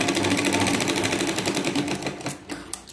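A sewing machine runs a straight stitch along a folded two-inch strip for a katori blouse, a loud, close, steady rattle that loosens into uneven stitches toward the end.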